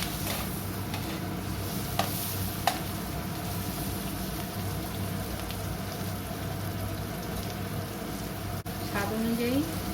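Fried chicken mixture with onion sizzles in a pan and is stirred through, making a continuous crackling hiss with occasional light scrapes and taps, and a faint voice shows up briefly near the end.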